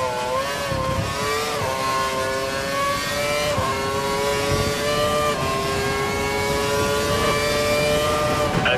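A race car engine screams at full revs in the F1 2012 racing game, steady high-pitched whine with harmonics shifting slightly through gear changes, loud and continuous with no talk.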